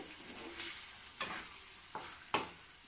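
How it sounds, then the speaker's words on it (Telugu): Greens being stirred into hot tempering in a pan, with a soft steady sizzle and a few sharp scrapes of the spoon against the pan, close and fairly quiet, no voices. "పోపు బాగా మిక్స్ అయ్యేటట్టు మొత్తం పులగూరని కలపండి"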